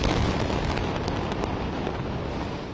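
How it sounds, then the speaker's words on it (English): Dense, continuous rumbling blasts and crackling bursts from the Israel–Hamas war roll on through the night without pause, loud and steady, like a barrage of explosions heard in the distance. "Explosions rumbled through the night"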